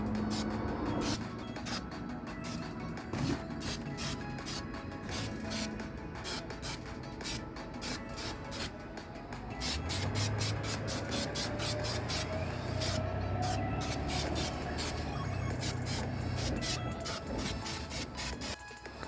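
Spray paint from a rattle can hisses steadily over a junkyard Honda hubcap, with short repeated bursts and pauses as an even sealing coat goes on, loud and close with no talk.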